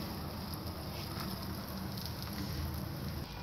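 A radish paratha fries in hot oil on a pan, giving a steady, close sizzle with a dense crackle that holds evenly the whole time, with no voices.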